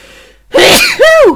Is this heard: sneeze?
yes